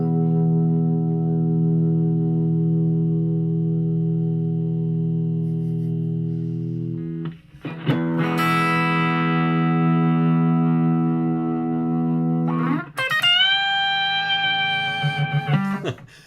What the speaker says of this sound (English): Okay, let's put full compression on now. This is totally compressed.